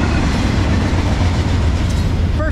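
A Norfolk Southern freight train rumbles past in South Plainfield, a steady, loud, close roar of rolling wagons with faint clickety-clack over the whole stretch and no talk.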